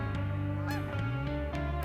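Geese honk repeatedly during a waterfowl hunt, a run of nasal calls from several birds overlapping at moderate distance, with no voices in between.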